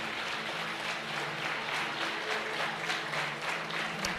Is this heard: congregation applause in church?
yes